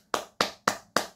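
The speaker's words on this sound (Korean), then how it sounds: "다들 된 친구들한테 박수." Four sharp, evenly spaced hand claps ring out clearly in a classroom, quick and close with no voices over them.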